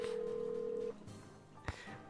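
A phone being dialed in the Nancy Drew game Legend of the Crystal Skull: a long steady tone drops away, followed by a brief sharp click or beep, all fairly faint and with no talking.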